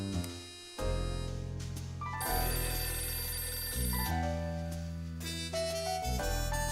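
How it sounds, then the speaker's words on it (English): A telephone ringing in the video game Last Window, electronic ringing tones layered over the game's music, moderately loud and continuous for several seconds with no voices. "That's the phone."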